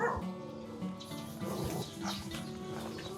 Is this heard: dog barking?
yes